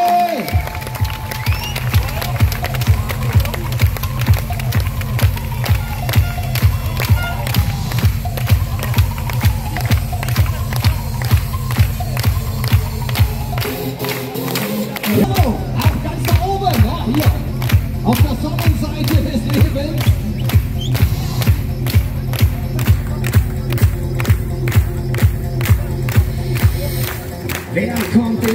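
Crowd at a mountain bike World Cup race in Aalen claps in a steady rhythmic beat throughout, loud and close, with a short pause midway before the clapping resumes stronger, with cheering mixed in.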